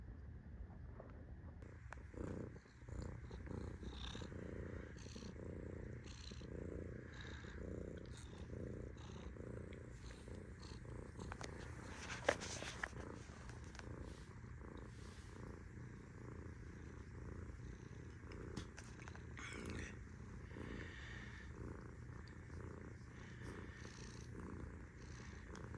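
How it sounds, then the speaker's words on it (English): A house cat purring steadily and softly up close, a continuous low rhythmic rumble with no one talking over it. "She's sitting in my chair now, just a purring."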